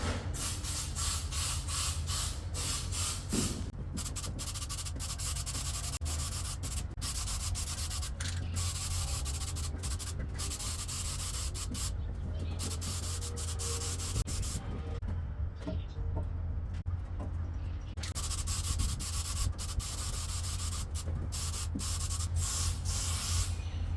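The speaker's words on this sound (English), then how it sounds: "To paint this, we're just going to be using spray cans and we're going to start with a grey etch primer." Aerosol spray cans of grey etch primer hissing steadily as a large Megabore lathe is painted, continuous close spraying with brief pauses and no talk.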